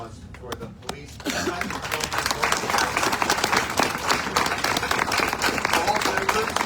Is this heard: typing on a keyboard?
no